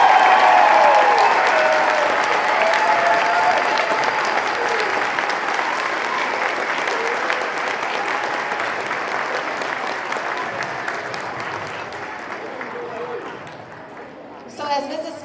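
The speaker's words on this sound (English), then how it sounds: "can we give our third graders one more round of applause?" Sustained audience applause for third graders at an elementary school Veterans Day concert, a loud broad wash of clapping that gradually fades over about fifteen seconds before a brief final burst.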